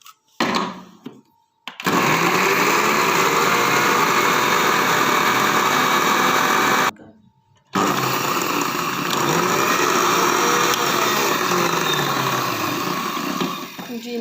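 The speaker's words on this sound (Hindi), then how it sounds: "और इसको भी हम इसी तरह ही ग्राइंड करते हैं।" Electric grinder whirring loudly and steadily as it grinds bread into crumbs, starting after a brief stutter, cutting out for a moment midway, then running again continuously.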